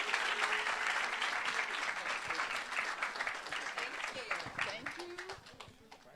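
Audience applause for a singer at a Grammy Week panel inside a museum, dense steady clapping that carries on for several seconds before gradually thinning out, with some voices mixed into the crowd.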